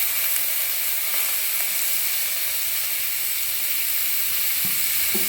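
Boiled jackfruit frying in hot mustard oil, a steady close sizzle and hiss running throughout with a few faint clinks near the end, no talk over it.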